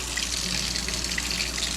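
Hot water running steadily from a tap to fill a bread proofing box, a continuous hissing splash at moderate level with no voices.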